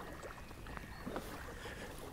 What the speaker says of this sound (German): an dieser Stelle muss man mal ganz schön paddeln